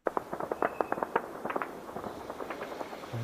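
Sharp crackling blasts and pops from an explosion in Beirut, Lebanon during a wartime strike, caught on a live news feed, firing in a rapid irregular burst of reports at moderate distance.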